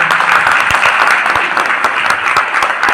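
Brisk applause from an audience at an open meeting in Punjab welcoming first-time members, dense steady clapping from many hands throughout.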